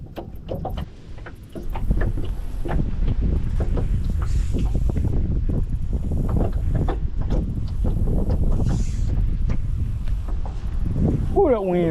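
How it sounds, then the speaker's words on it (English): Strong wind buffets the microphone on a muddy lake during summer crappie fishing, a loud, rough rumble that persists under background speech. "Ooh, that wind's rough, y'all."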